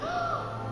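A single bird call in a fantasy screening, a drawn-out harsh caw with a tonal sweep, moderately loud over a steady low background hum.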